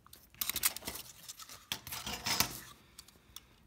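A blade cutting material for a handmade hidden compartment box, with quick scratchy slicing strokes in short bursts, close and moderately loud, no voice.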